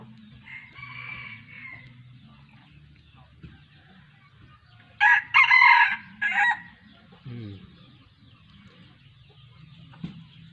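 A rooster among fighting cocks and jungle fowl crows once, loud and close, amid softer clucking, with someone talking quietly before and after.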